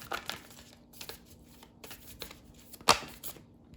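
A deck of Moonology oracle cards is shuffled by hand in a quiet room, with soft riffling bursts and a sharper flick of cards near the end.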